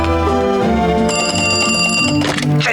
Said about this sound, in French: Tout ce que t'as à faire, c'est répondre au téléphone.